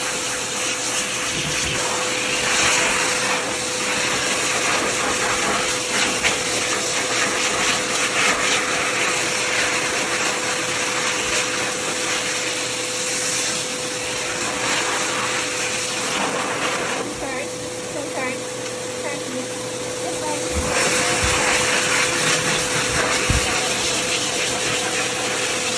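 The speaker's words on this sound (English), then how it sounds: "I have done a full blow dry, meaning I've blown him dry" A pet blow dryer runs steadily and loudly at close range while drying a standard poodle's coat during a grooming session, its airy roar with a constant tonal whine holding throughout with slight shifts as the nozzle moves.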